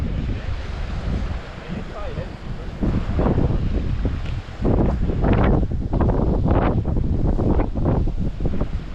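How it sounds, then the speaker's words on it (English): Strong wind buffets outdoors beside a river during a Colorado trout fishing outing, a loud, constant rumbling roar with gusty surges throughout. "The good news is this wind is great cover though."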